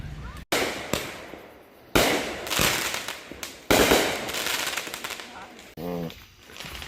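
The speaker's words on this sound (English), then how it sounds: "Y'all like that firework?" Fireworks go off in a rapid series of sharp cracks and bangs, some loud and close, with crackling between bursts and a brief voice near the end.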